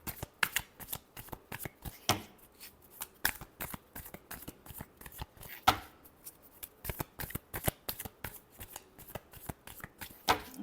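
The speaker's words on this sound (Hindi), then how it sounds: "Last shuffle." Tarot cards are shuffled by hand in a steady run of crisp riffling and slapping bursts, close and fairly loud, with brief pauses between passes and no talk.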